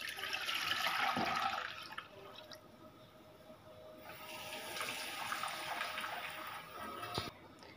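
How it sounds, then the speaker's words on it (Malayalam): Water poured from a vessel into a pot for chemmeen biriyani, a faint close splashing stream in two bursts with a quieter gap between. "ഇതിലൊരു പാത്രം വെള്ളം ഒഴിച്ചു കൊടുക്കാം."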